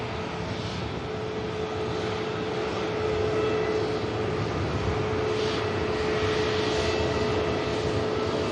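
British Airways airliner at Manchester Airport on a rainy day, a steady broad engine roar with a faint whine, loud and continuous without voices.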